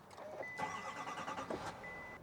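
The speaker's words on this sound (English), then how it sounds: "you can immediately hear that diesel purr to life" A 2023 GMC Sierra 2500 AT4 with the Duramax diesel engine cranks and fires up, a short starter whir followed by the engine catching and settling into a steady rumble, close by with no talk.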